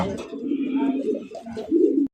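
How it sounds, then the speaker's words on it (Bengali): Rajgola pigeons cooing close by, deep rolling coos in two swelling bursts that break off abruptly, with people's voices around them. "আরো এক কালারিং রাজগোল্লা কবুতর দেখতে পাচ্ছেন"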